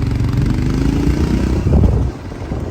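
A motorcycle engine runs loud and close on a mountain valley road, holding a steady throaty rumble before easing off near the end, with no one speaking.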